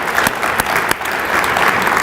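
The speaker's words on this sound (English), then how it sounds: "why don't we just give ourselves a round of applause for everybody that's here?" A room of guests at a Veterans Parade dignitary breakfast claps together in dense, steady applause, with a few sharper individual claps standing out near the front.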